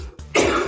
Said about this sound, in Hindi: जिस तरह मुझे खांसी आ रही है